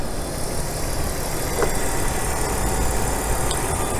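A 2000 BMW 323Ci engine idling with the hood open, a steady, even mid-pitched hum that stays constant and close, with a faint tick partway through and no voices.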